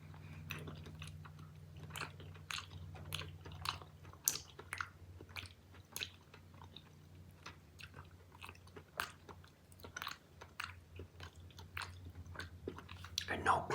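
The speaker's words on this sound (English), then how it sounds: "I'm eating an apple flavored candy" Apple-flavored chewy candy chewed close to the mic: soft, moist, repeated chewing and squishing at a steady pace, with a low background hum and faint breaths.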